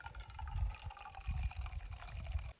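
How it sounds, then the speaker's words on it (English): Water is poured into a teapot and swirled to rinse Moroccan mint tea leaves over a campfire, giving a steady liquid sloshing and trickling that stays close and moderately loud, with no talking. "now what I'm going to do is go ahead and add some more water. We're going to swirl that around"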